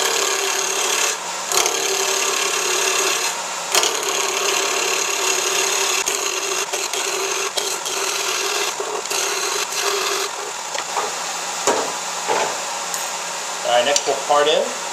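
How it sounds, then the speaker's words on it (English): Steady rasping scrape of a big skew chisel roughing a walnut knitting needle spinning on a wood lathe, continuous and close with a constant motor hum, the cutting texture shifting briefly near the end. "Start off with my big skew for roughing here."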